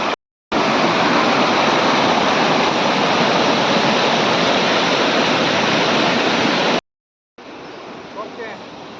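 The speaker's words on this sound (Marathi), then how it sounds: "पूर्ण धबधब्याचं स्वरूप पाण्याला आलेलं आहे" River water pours over a waterfall near a large dam, a loud, steady broadband roar that fills nearly the whole stretch, cuts out briefly, then returns softer and more distant.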